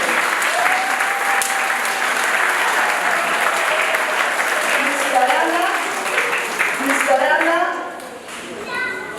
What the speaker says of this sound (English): Can we clap for all the unified teachers?